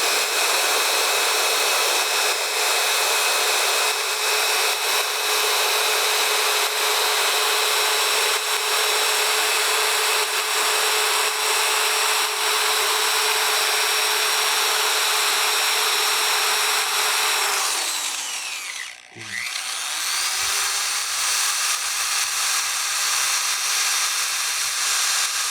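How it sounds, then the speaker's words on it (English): A drill spins 320-grit abrasive against a turned wooden bowl, making a steady, loud hissing whir that holds for most of the stretch, then winds down to a stop and briefly starts again. "I'm going to sand that and blend that up a little higher than I did the 220."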